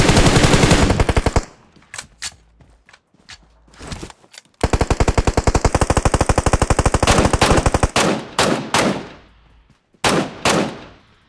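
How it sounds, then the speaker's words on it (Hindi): Rapid automatic gunfire in PUBG Mobile, loud and close: an opening burst, scattered single shots, then a long sustained volley and a few shorter bursts, with brief silences between and no talking. "मैं यहां से उन लोगों को फायर देता हूँ।"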